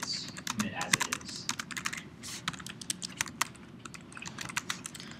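Rapid typing on a computer keyboard, irregular clusters of sharp key clicks throughout, moderately close with a steady low background hum and no talk.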